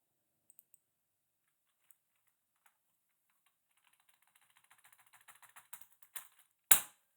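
Typing on a computer keyboard while working in the NIMBY Rails game: sparse isolated key clicks that build into a quickening, denser run of taps, ending in one loud sharp clack, close and without voices.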